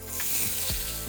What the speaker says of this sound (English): We're gonna look for that sizzle.